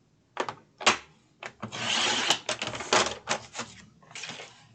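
A Dollar Tree cardboard box is cut into pieces up close, giving several short rasping strokes followed by a longer sustained cutting pass and more brief scrapes, with no voices.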